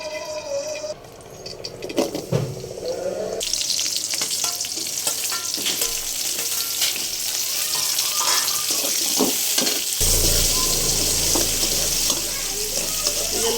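Onion and tomato fry in oil in a kadai, giving a loud, steady sizzle close by under repeated scraping and stirring, with the frying growing louder toward the end.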